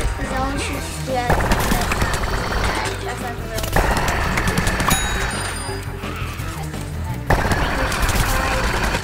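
Video game gunfire from Plants vs Zombies Garden Warfare 2 bursts in rapid automatic volleys, loud and dense, with game effects and talk running underneath.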